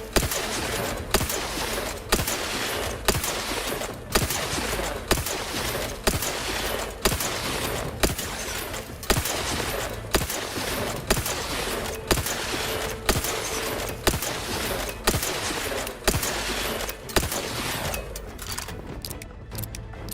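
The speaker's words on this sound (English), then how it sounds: "Using a shotgun against me from across the room, my friend" Shotgun blasts in The Outer Worlds video game, a long string of loud, sharp reports fired at a steady pace of roughly one every second, over a busy combat background.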